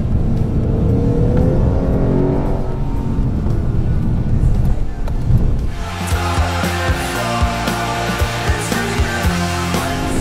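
Lexus RC F with a naturally aspirated V8 and eight-speed automatic revving on a race track, a loud rising engine note with a whirring drone, then a change to a harsher, busier roar with rhythmic pulses.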